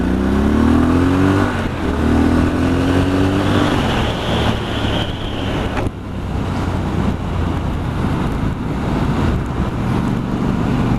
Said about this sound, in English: Triumph HT engine, high torque engine, which they pull really well